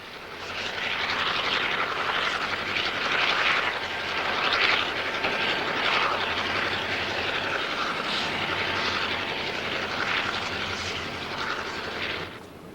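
Train climbing to the top of a mountain pass after rotary plows opened the line: a continuous broad roar and rumble that swells and eases throughout.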